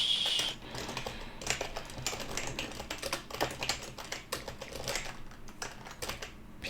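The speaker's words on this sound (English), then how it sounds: "Please type correctly. Typing too fast." Fast typing on a computer keyboard, a quick, irregular run of close, quiet key clicks with no talk.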